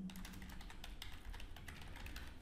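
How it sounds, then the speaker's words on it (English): Rapid, light key clicks from a computer keyboard tap out a steady run of keystrokes up close, quiet and alone. "So I'm going to type out landing page"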